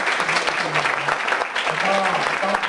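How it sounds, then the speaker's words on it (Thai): Applause from the audience at an OWASP Thailand security meeting, a dense, close burst of clapping with scattered voices mixed in. "ขอเสียงปรบมือ"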